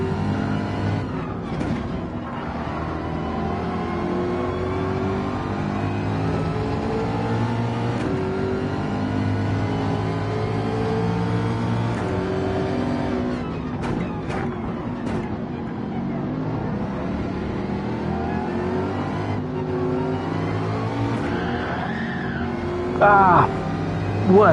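Race car engines in a racing video game, a steady loud drone with shifting engine tones and occasional revs, running continuously beneath commentary.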